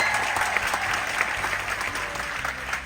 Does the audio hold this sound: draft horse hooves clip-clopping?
no